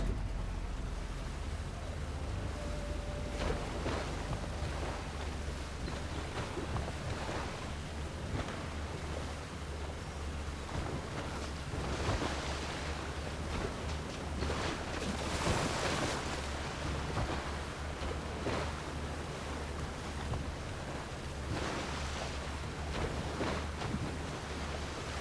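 A boat sails across ocean waves in Horizon Forbidden West, with continuous wash of surf and water rushing against the hull alongside wind, steady and moderately loud throughout, with periodic swells rising and falling.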